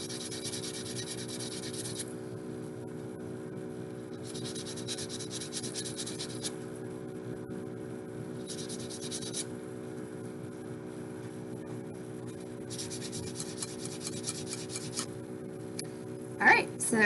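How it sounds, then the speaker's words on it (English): Ring metal is sanded flat on sandpaper laid on a table, heard as a long series of rhythmic rubbing strokes that come in several spaced bursts over a steady background hum, ending in a couple of sharper knocks. "So I'm gonna do the same thing with my sandpaper on the table. Just sand that flat."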